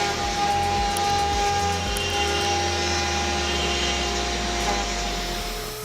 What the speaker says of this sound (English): Let's take a look at some popular CNC machines.